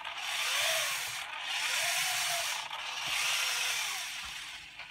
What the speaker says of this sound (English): It's a lot smoother than when I tried it earlier. There's no grease on the side screws at all, on the side pistons.